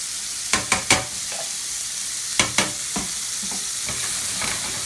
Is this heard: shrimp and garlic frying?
yes